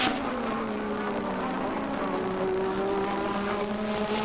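A Honda-powered Formula 1 race car from the 1985 season races past as a steady, high engine whine holding a sustained pitch, with a hint of rising tone and wind noise.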